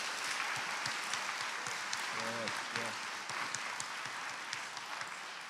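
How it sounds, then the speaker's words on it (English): Audience applause fills a school band winter concert hall, dense and even, with scattered sharper claps; a voice briefly speaks midway through the steady, moderately distant clapping. "If we could give a round of applause to those people, they're awesome, awesome."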